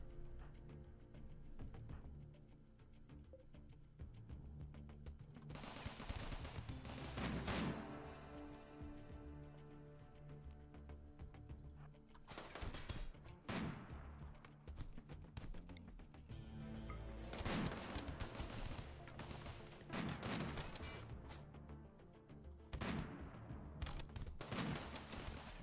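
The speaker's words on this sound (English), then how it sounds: "Sounds like they're shooting a shotgun." Gunfire-like shooting in a fortress-building video game, a faint, distant run of scattered shots and bursts that repeat irregularly over a steady low background.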